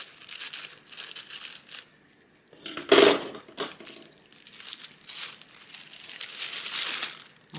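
AliExpress parcel packaging being cut open and unwrapped, close crinkling and rustling of plastic in uneven bursts with one louder crunch partway through, no talking.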